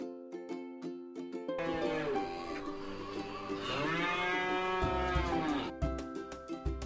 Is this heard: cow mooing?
yes